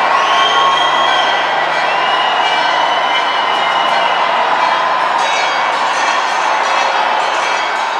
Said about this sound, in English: The silence is broken by a joyful cry as the surrounding crowd acclaims